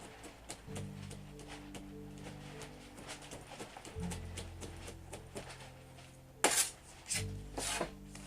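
A knife finely minces on a cutting board for chicken marinade and naan dough, giving soft, irregular taps with a few sharper knocks over steady background music.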